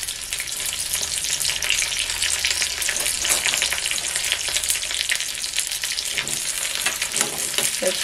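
Three dried red chillies and curry leaves sizzling in hot oil, a loud steady crackling fry up close with dense popping and brief stirring scrapes.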